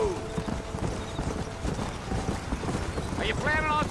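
Hooves clip-clop at a steady trot in the Red Dead Redemption game, with some wind-like ambience, and a horse's whinny rises near the end.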